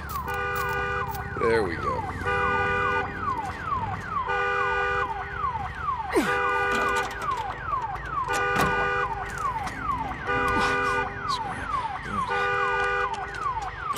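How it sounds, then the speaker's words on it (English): A wailing alarm blares in the video game Days Gone, its rising and falling electronic tones repeating steadily with a few short clanks and a brief spoken line mixed in. "Damn alarm."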